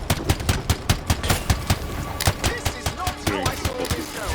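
Gunfire in the video game Anthem rattles in rapid bursts of sharp shots, loud and close, with brief pauses between volleys and faint game noise underneath.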